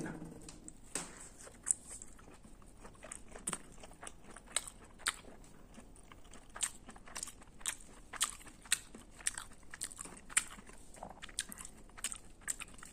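Someone eats food up close, with soft repeated bites and crunchy chewing in an irregular rhythm, fairly quiet against a hushed room and with no talking.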